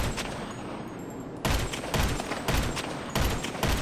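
Gunfire from GTA 5 Online: a quiet game ambience breaks into several loud bursts of shots, roughly four clusters of rapid firing spaced about half a second to a second apart.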